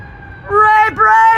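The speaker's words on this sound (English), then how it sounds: "here's the fire trucks again." Fire truck sirens wail, rising and dipping in pitch, loud and fairly near, over low traffic rumble, sweeping down briefly before climbing again.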